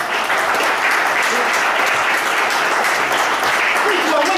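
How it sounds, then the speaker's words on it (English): An audience at a stage hypnosis show applauding, a steady, loud roar of clapping throughout with a voice talking faintly underneath. "give Elliot a round of applause."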